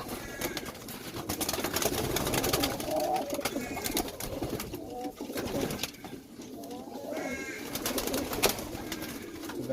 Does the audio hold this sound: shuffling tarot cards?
no